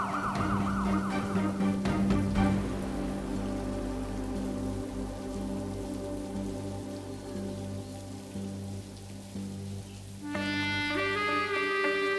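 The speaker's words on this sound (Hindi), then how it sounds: "ये यार बंद करो यार सायरन" An ambulance siren wails and warbles over a steady hissing wash, fading back, then a bright tonal siren returns near the end.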